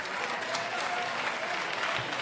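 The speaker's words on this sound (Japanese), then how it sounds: "最後の最後まで戦い抜いた2人に大きな拍手をお送りください。" An event audience at a fight bout applauds the two fighters after a grueling overtime round, sustained dense clapping at an even level with a faint crowd murmur underneath.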